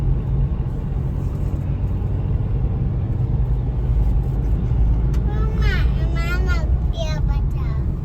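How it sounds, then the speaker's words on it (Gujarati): A car rolls over a rough, bumpy road, giving a steady low rumble and road noise throughout. Partway through, a voice talks over the engine drone. "રફે રફ જાય છે આપણી ગાડી"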